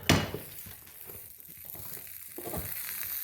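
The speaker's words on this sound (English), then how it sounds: "the sound you're hearing is this grease boiling" Steady broadband sizzling and crackling of grease boiling on hot metal after torch heating, with a sharp clatter at the start and occasional louder pops throughout.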